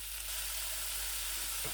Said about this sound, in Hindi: और इनको तकरीबन 5 मिनट के लिए अच्छे से फ्राई कर लेना है।